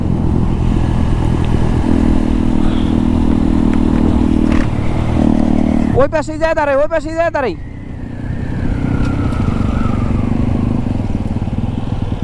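Suzuki Gixxer motorcycle ridden fast on a road, a steady loud engine drone and wind rush throughout, with a voice speaking over it midway.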